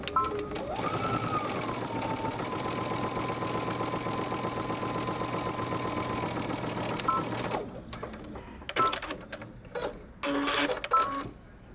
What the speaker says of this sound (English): Okay, so we're going to back stitch.